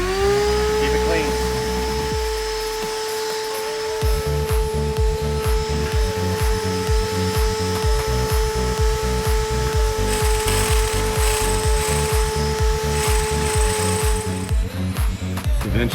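A power drill bores out the injector hold-down on a Sprinter van diesel engine, a loud, close whine that pauses, restarts and pulses rhythmically with a low chatter for most of the stretch.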